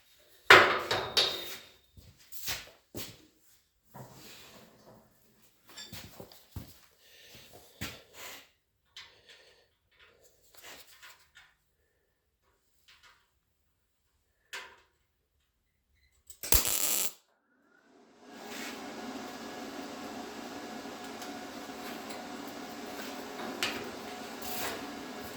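Scattered taps and clicks come first as a patch is set into a hole in sheet metal, then a brief loud burst. Close, steady welding crackle and buzz follow, running continuously for several seconds.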